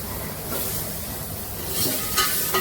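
Chopped drumstick pods drop into a pan of sautéed onion and tomato for sambar, hissing and sizzling in oil. A spoon scrapes and stirs close by, with a brief louder sizzle burst near the end.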